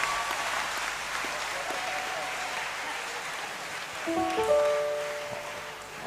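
Audience applause at a university graduation ceremony in a great hall, a sustained wash of clapping that swells slightly toward the end, with faint tonal sounds entering midway.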